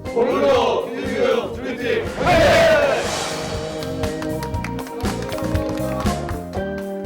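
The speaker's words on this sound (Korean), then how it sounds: "활기찬 함성과 함께 두 번째 날의 수업을 시작하는 선생님들" Teachers give a loud, lively group shout to open the second day of class at a school in Cambodia, a burst of many voices in the first seconds, followed by footsteps and classroom bustle.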